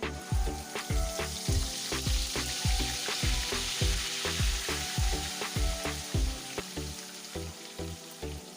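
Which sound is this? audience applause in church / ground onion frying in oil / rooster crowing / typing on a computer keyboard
ground onion frying in oil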